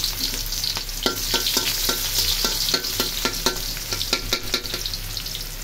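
Onions sizzle loudly in hot oil while being stirred for chicken biryani. A steady frying hiss runs under quick, rhythmic scraping strokes of the spoon, close up, with no talking.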